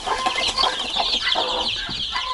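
Many chickens, chicks and hens from a mixed domestic flock, cluck and peep together in an enclosure in a steady, busy chorus, close by and fairly loud, with no talking.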